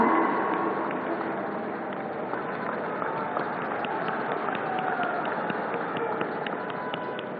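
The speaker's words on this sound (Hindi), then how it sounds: "जोरदार तालियों से स्वागत करेंगे माननीय श्री अमित शाह जी का" Loud, sustained applause from a large crowd welcoming Amit Shah at a public event, a dense steady clatter of clapping that fills the whole stretch without pause.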